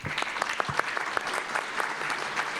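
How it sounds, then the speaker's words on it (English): An audience applauds the panelists after a session on antisemitism, a moderately loud patter of many hands with some sharper individual claps standing out, continuous throughout. "Thank you for applauding our panelists."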